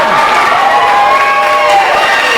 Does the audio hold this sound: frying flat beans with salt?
no